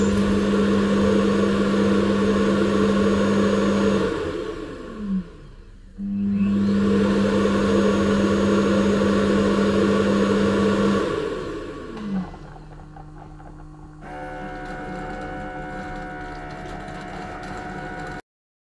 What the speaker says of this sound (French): Il se peut que vous entendiez un léger bruit de flux d'air dû à la forte puissance d'aspiration